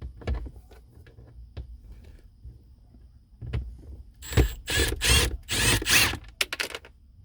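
A power driver with a socket backs out the screws on an older Hyundai Santa Fe cabin air filter cover, giving a few close, quick whirring bursts after scattered clicks and handling taps.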